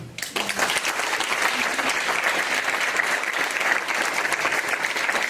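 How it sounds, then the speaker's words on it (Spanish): A church congregation applauds together in a steady, dense wash of clapping that fills the space from start to finish, close and even in level with no voices standing out. "dale un aplauso al Rey"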